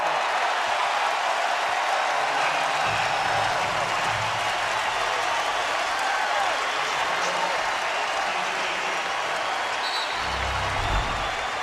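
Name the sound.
basketball arena crowd cheering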